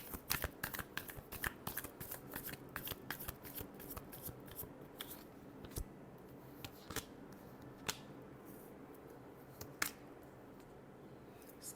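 Tarot cards being shuffled close up, a rapid run of crisp riffling flicks and snaps in irregular bursts, quiet and without voices.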